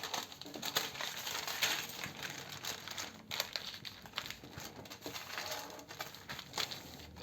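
Paper sewing pattern pieces being folded after cutting, a close, continuous crinkling and rustling of paper with soft crackles, no talking.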